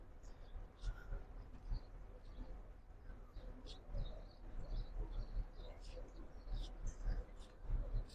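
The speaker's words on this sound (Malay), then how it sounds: "ini banyak juga burung-burung yang berterbangan di sekitar Masjidil Haram, betapa indahnya" Birds flying around the courtyard of Masjidil Haram in Mecca chirp and coo faintly in scattered bursts over a low, distant murmur of crowd noise.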